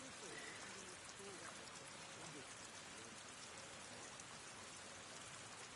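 Rain falls steadily in the video game Avatar: Frontiers of Pandora, a faint, continuous hiss of drops and trickling water with soft voices murmuring underneath.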